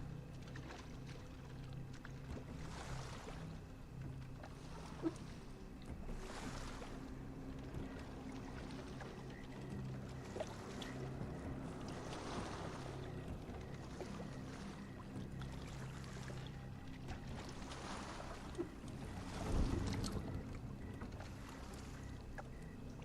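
A boat glides across water in the video game Sherlock Holmes Awaken, giving a steady low wash of lapping water and soft wind with faint splashes every few seconds, and no voices.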